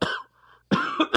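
Two harsh, close coughs from a man, separated by a short pause, loud and raspy.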